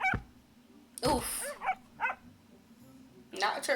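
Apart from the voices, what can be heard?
dog barking and whimpering in a video game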